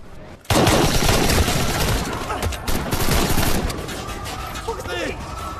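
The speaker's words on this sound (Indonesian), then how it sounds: "oknum tersebut menembaki siapapun yang ada di dalam markas" Gunfire crackles through a police raid scene in the Filipino action film Topakk (2023): dense, loud overlapping shots and bursts fill most of the stretch after a brief quiet opening, with some voice-like sound mixed underneath.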